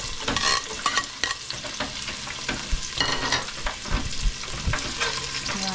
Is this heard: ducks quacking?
no